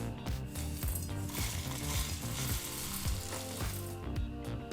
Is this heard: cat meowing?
no